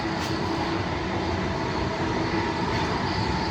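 An old passenger train, around 55 years old, runs steadily into Morisset station, heard from inside the carriage as a loud, constant rumble with rolling wheel and track noise.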